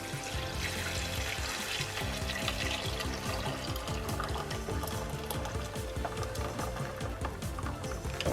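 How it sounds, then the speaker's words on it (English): Dal mixture is poured slowly into cooking meat, a steady, faint liquid trickle and splash running continuously with a soft, even texture throughout. "add the dal mixture into the meat slowly"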